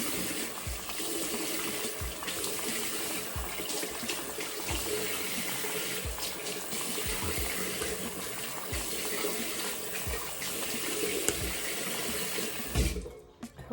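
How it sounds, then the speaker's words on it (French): Tap water runs steadily into a sink while a face is rinsed, a continuous close splashing rush with occasional louder drips and splashes, ending as the flow stops. "Je rince abondamment"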